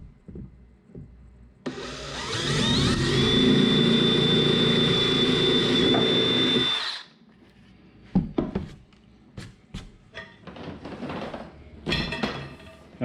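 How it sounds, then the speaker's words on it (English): A loud, steady drill whine from a 3/8 inch bit boring a hole during a trolling motor install runs for about five seconds with a high tone, then stops, followed by scattered clicks and knocks. "The diameter on this stuff is 3/8, so we're going to use a 3/8 drill bit."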